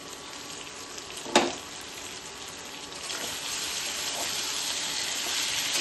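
Potato and green banana curry sizzles in a covered pan, a soft continuous frying hiss with a brief sharp clatter early on, steady and fairly quiet throughout.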